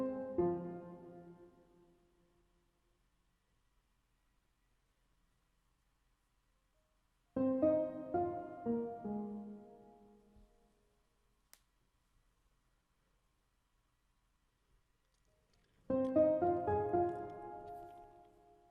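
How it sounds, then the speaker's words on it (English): Nexus Grand Piano Soft preset playing three separate soft piano phrases, each a cluster of gentle notes that rings out and decays into near silence before the next begins. "we are using a preset called Nexus Grand Piano Soft"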